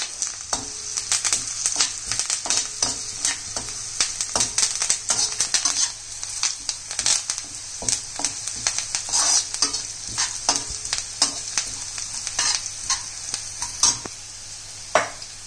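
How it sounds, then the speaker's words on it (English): Spices with a little turmeric sauté in a pan for crispy okra, crackling close up with dense, irregular spitting pops over a continuous hiss. "little turmeric, and again saute it for say 1 minute."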